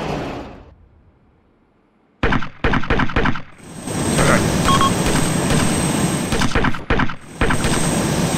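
Gunfire in the military game Arma 2, aboard a Russian Su-34 jet: loud bursts of shots after a near-silent start, then continuous roaring engine and firing noise, with a few abrupt cutoffs.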